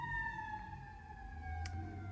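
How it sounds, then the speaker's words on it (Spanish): A single wailing siren from an ambulance or fire truck slowly falls in pitch as it passes nearby, sounding over low traffic rumble with one brief sharp noise near the end. "Aquí pasan por acá seguido las ambulancias, pasan los bomberos"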